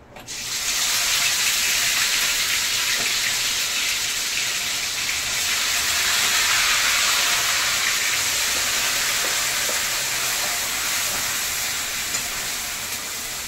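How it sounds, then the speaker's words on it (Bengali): Marinated chicken drops into hot oil in a pan and sizzles with a loud, steady hiss that starts suddenly and keeps going close by without a break. "এবার তেলের মধ্যে দিয়ে দেব এই ম্যারিনেটেড চিকেন।"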